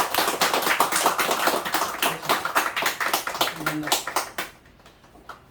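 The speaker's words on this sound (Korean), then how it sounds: "박수를 드립니다." A church congregation applauds at the close of a Korean Christian mission event: dense, steady clapping from many hands fills the room, then cuts off sharply near the end, leaving quiet.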